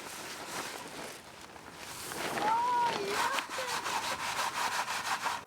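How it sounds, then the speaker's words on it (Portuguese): Turnip seeds sifted through a coarse sieve, making a continuous close scraping and rustling shuffle that grows rhythmic toward the end, with faint voices in the background. "tiramos em primeiro lugar as sujeiras maiores, passando as sementes em uma peneira grossa"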